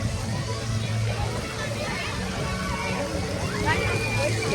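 Crowded outdoor water park on a Fourth of July vacation, with continuous sloshing and splashing water under a dense, loud hubbub of many voices and children calling, steady throughout.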